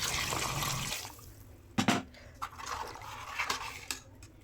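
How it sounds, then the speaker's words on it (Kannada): Water pours into a cooking pot with rice for mutton biryani, a steady rushing stream at first, then a brief louder splash and a few softer trickles and knocks, close by with no talking. "ಅದಕ್ಕೆ 3 ಗ್ಲಾಸಷ್ಟು ನೀರು ಹಾಕ್ಕೋತಿದ್ದೀನಿ ನಾನಿಲ್ಲಿ"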